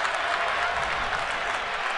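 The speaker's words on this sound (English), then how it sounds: "the Philly fans are being shouted down by the National fans here. Yeah, they're chanting, "Let's go Phillies,"" A large baseball stadium crowd of Phillies and Nationals fans roars in a dense, continuous wash of cheering and chanting, loud and unbroken with no individual voices standing out.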